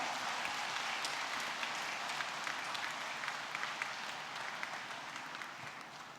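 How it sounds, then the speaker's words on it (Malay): A large audience at an UMNO women's wing assembly applauds in appreciation, a steady, fairly distant wash of clapping that fills the whole stretch without speech. "marilah kita beri tepukan penghargaan kepada semua wanita UMNO,"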